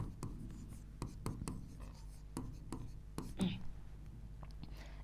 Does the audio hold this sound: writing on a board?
yes